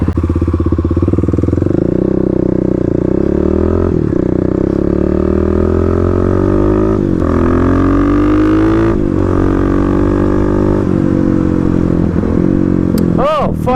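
Kawasaki KLX351 dual-sport motorcycle cruising on a highway, a loud, steady single-cylinder engine drone with gentle rises and dips in pitch as the throttle shifts, and heavy wind rush throughout.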